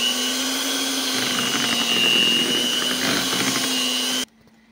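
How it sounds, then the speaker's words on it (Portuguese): An electric hand mixer beats cooled chocolate cream for a dessert, giving a loud, steady motor whine with a constant pitch that runs for about four seconds alone, then cuts off abruptly into near silence. "Vou dar uma batida nele aqui na batedeira,"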